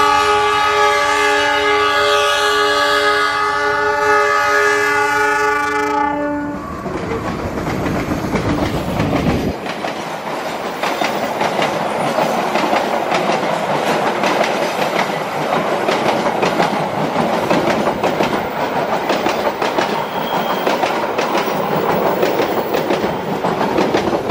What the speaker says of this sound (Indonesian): manuver kereta api Argo Wilis meliuk di tikungan besar stasiun Cipendei